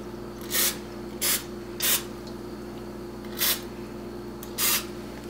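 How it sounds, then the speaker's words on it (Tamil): Cooking oil sprayed onto a paniyaram pan in five short hissing bursts, spaced unevenly over a few seconds, each brief and fairly close against a steady low background hum. "பட் நான் இப்போ ஆயில் ஸ்ப்ரே பண்ண போகிறேன்"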